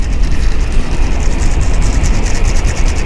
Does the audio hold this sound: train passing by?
yes